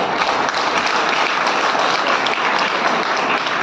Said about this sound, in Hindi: सभी कलाकारों को जोरदार तालियां।